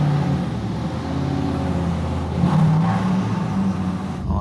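A 1000 HP turbocharged Pontiac Trans Am pulls away with a steady, loud engine rumble that swells as it accelerates about halfway through, then drops off sharply near the end.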